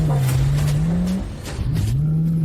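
Car engine revving hard and steadily, dipping briefly then climbing again, loud and near with no voices.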